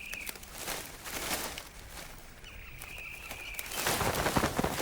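Harsh squawks and rustling from frigate birds squabbling at their nests in low shrubbery nearby, with scuffling movements and a brief whistling call.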